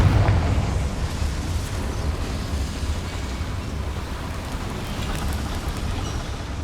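A Confringo fire spell explodes in Hogwarts Legacy with a loud opening blast, then a long crackling, rumbling tail that fades slowly, and no talk over it.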